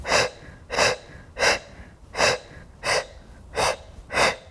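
Rapid, rhythmic yoga breath of fire: seven evenly spaced, forceful breath bursts close to the listener, roughly one every 0.6 seconds, loud and breathy with no talking.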